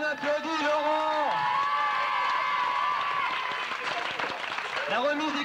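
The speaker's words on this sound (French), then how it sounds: "On applaudit Laurent" A 1993 stage show audience applauds and cheers, with a crowd's voices swelling into shouts and a dense wash of clapping; voices are also heard within the noise.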